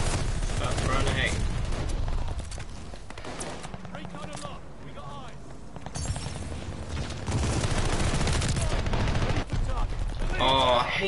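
Dense, loud video-game gunfire with incendiary rounds in a Call of Duty: Vanguard multiplayer match, sustained bursts and booms filling the scene almost without pause, with a voice talking underneath.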